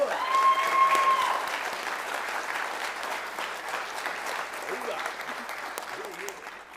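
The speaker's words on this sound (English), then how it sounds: "please join me in another round of applause for Second Lieutenant Amanda Grimes" An indoor audience at a spring ROTC commissioning ceremony for a second lieutenant bursts into steady applause that swells early and then gradually tapers off, with a brief whistle near the start.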